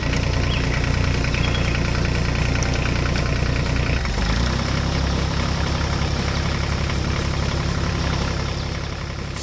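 A combine harvester engine in a 3D animation runs steadily at a loud idle, a continuous low mechanical drone with a brief dip partway through before the rumble resumes.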